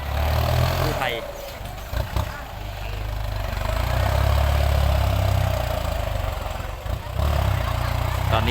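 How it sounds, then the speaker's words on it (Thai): A steady low tractor engine rumble runs throughout, rising and falling slightly as it levels dumped soil on a house site, with brief dips in level. "รถไถกำลังปรับพื้นที่"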